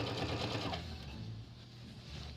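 Sewing machine stitching fabric for a tote bag, a fast steady mechanical whir that runs close and loud, then slows and softens toward the end.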